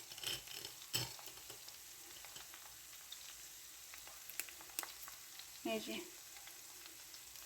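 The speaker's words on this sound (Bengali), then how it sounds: "আর এই হচ্ছে শব্দ, অনেক ক্রিস্পি হবে এরকম, কিন্তু পুড়ে যাবে না, ভাজা হবে" Besan boondi frying in hot oil for laddu, a soft, steady sizzle with crackling bursts and a louder spurt near the end, while a voice speaks briefly over it.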